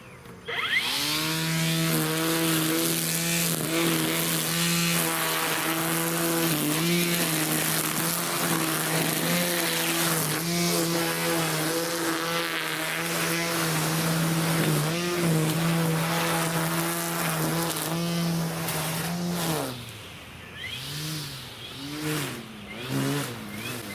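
Toro 16-inch battery-powered weed whacker running steadily at high speed with a strong whining hum, then the pitch drops and wavers near the end as the line feeds out; close and loud, no talk.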